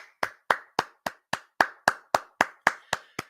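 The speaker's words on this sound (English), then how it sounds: "Clap it up for Drake May, everybody." Slow, evenly spaced single-person clapping, about a dozen crisp hand claps in steady rhythm, close and isolated with no talk.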